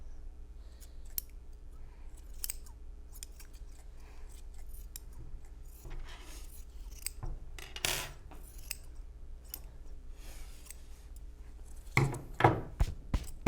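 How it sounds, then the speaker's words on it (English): Scissors snip paper at a holiday crafts table, with many quick, close cuts scattered throughout, a few louder clacks and scrapes near the end, and faint background noise. "scissors are a lot easier to use"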